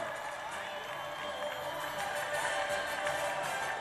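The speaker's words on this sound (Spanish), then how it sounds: "Ese aplauso del Parque Santa Catalina a la murga, los Chachotú" Outdoor crowd applause and cheering at Parque Santa Catalina for a carnival murga at an awards ceremony in Las Palmas de Gran Canaria, steady and somewhat distant throughout.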